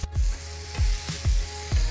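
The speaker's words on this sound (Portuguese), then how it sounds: "Camarão inteiro para ir dando uma refogada." Whole shrimp seasoned with salt and black pepper sautéing in a pan, with bursts of loud sizzling that flare and fade about four times over a steady frying hiss, close up and without talk.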